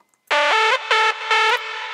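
A loud, buzzing distorted hardstyle synth lead plays a short phrase of held notes, its gritty harmonics shifting pitch a few times.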